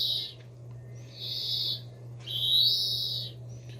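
A songbird repeats short, high, faulty chirping calls three times against a steady low hum, fairly faint.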